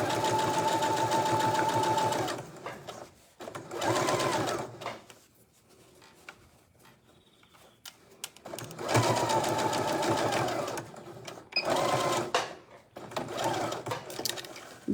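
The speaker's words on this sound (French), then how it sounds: "Vous faites un point d'arrêt au début du trou et vous allez piquer tout le long du trou." Sewing machine stitching closed the lining hole of a fabric bag, a close steady whirring hum in bursts separated by pauses, no talking heard.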